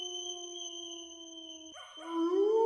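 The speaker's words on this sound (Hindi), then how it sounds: "दूर कहीं से कुत्तों और सियारों की रोने की आवाजें आने लगी।" Dogs and jackals howling far off, a long sustained wavering howl held steady and then breaking into rising, overlapping cries near the end.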